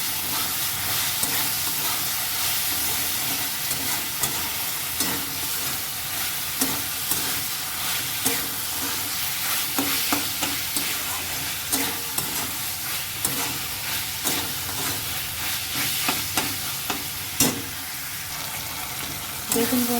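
Pasta sauce with ginger and garlic sizzles steadily in a pan while being stirred, a continuous close frying hiss broken by frequent scraping and clacking of the spoon.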